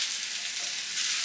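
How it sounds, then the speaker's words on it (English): Potatoes and ground beef fry in a pan with a brief, close, continuous sizzle as they are stirred for browning. "Just gonna go ahead and give this a nice stir, get in some nice color to those potatoes."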